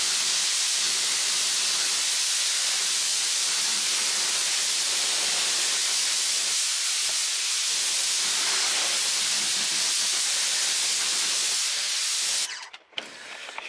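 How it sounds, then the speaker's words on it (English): An electric Ryobi 1600 PSI pressure washer rinsing a BMW wheel, a loud steady hissing spray that runs unbroken for about twelve seconds, then cuts out briefly with sputtering. "this pressure washer is just an electric Ryobi 1600 PSI pressure washer"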